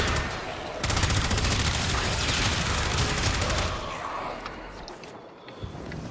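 Rapid, dense bursts of fire from the Phenmor weapon in its Incarnate form in Warframe, loud and continuous for several seconds while destroying armed units, then cutting off into quieter game effects.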